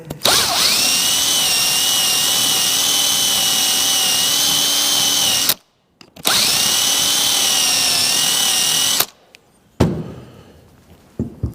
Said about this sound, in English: We've got to drill this out a little bit.